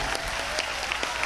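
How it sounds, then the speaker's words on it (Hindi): Crowd applause at an outdoor gathering during a Hindu unity foot pilgrimage leaving Haryana, dense steady clapping from many people, fairly close and sustained throughout. "जोरदार ताली बजाकर हरियाणा को धन्यवाद दो।"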